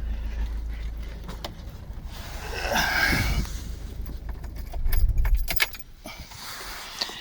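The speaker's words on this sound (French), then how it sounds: "je vais éteindre le véhicule" Keys jangle in the ignition as a camper van is switched off. A low engine rumble runs underneath, then stops abruptly toward the end, followed by quieter jingling.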